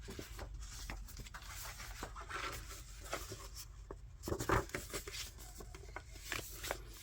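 Paper being folded back and forth by hand, soft scattered crinkles and creasing rubs with a few sharper crackles, close and quiet.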